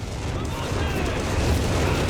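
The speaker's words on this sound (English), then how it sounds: "There we go, creeping barrage" Artillery creeping barrage in Company of Heroes 3, a continuous loud roar of overlapping shell blasts and rumbling explosions with a caster's voice mixed in.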